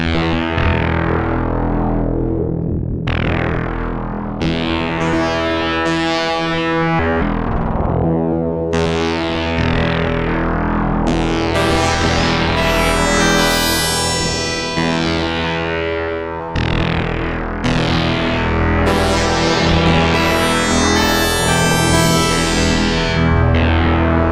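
Harsh, gritty Waldorf XTk synthesizer tones with aliasing and time quantization switched on play continuously and loudly, with a buzzy, distorted digital edge and shifting pitches.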